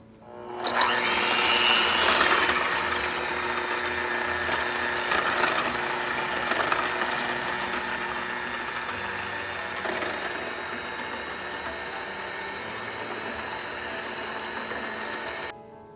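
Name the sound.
electric mixer whisking whipping cream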